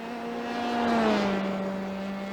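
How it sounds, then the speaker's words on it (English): A Formula 3 race car in a racing video game drones past at Road America's Thunder Valley, its steady engine note rising and then easing as it goes by, with the exhaust echoing under overhanging trees. "Named for the way that the exhaust echoes through those trees as they hang over"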